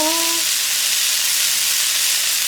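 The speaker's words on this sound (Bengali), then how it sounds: "সব সবজিগুলো ভেজে নিয়েছি, পেঁয়াজও দিয়ে দিয়েছি, তার মধ্যে কড়াইশুঁটিও দিয়ে দিয়েছি" Vegetables with onion and peas sizzle and fry steadily in a wok, a dense continuous crackling hiss that fills the short stretch close to the pan, with a brief tonal beep at the very start.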